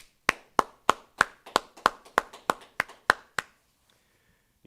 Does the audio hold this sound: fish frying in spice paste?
no